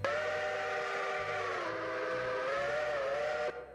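A Central Northwestern steam train whistle in a railroad video game sounds a loud, continuous chord-like blast for over three seconds, its pitch sagging slightly partway, before stopping sharply over a faint engine rumble.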